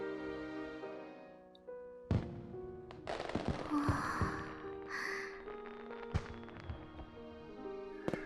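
Fireworks burst during a festival scene in the video game Robotics;Notes Elite: several sharp booms and crackles at irregular intervals, layered over sustained background music.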